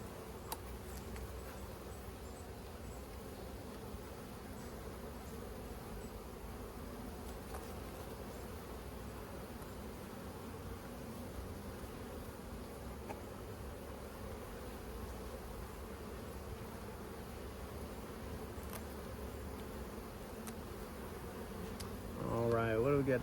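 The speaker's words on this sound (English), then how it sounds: "A bunch of fuzzy bees too." Honeybees in an open hive make a dense, continuous buzzing hum, fairly faint and steady, with occasional light ticks and handling noises.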